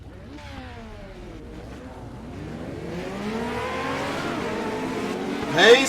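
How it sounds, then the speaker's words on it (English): Small Legends race car engines at Southern National rev up together before the start, a rising chorus of buzzing engine notes that climbs steadily louder, with a sharper burst near the end. "All the drivers winding up their tiny little engines"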